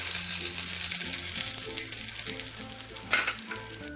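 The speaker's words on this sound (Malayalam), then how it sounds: "ഈ മിക്സ് ചെയ്ത് വെച്ചിരിക്കുന്ന മുട്ടയുടെ കൂട്ട് ഒന്നും കൂടി നന്നായിട്ടൊന്ന് മിക്സ് ചെയ്തിട്ട് ഇതിലേക്ക് ഒഴിച്ചു" Beaten egg mixture for a bread omelette poured into hot oil, giving a bright, loud sizzle that crackles on, with a few scrapes and knocks of a utensil.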